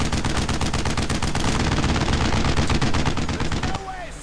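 A long, unbroken burst of rapid machine-gun fire in the World War II shooter Brothers in Arms: Road to Hill 30, loud and relentless for several seconds before cutting off, with a voice talking faintly underneath.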